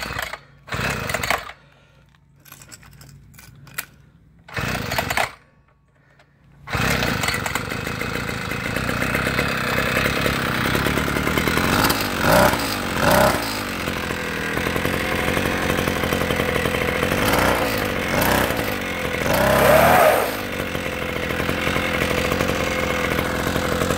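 A Wheelman Bushpig skate cycle's two-stroke engine sputters through a few short bursts, then catches and runs steadily with a loud, buzzing, chainsaw-like drone that rises and falls with throttle.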